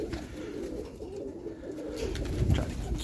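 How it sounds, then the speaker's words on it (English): Low, throaty cooing of roller pigeon cock birds in a loft, soft and continuous, close by, with no talking. "just putting up some birds, cock birds"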